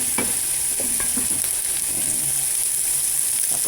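Pork sizzles and fries in oil in a pan, a constant bright hiss with scattered crackles and occasional stirring scrapes, close and loud, with no talking.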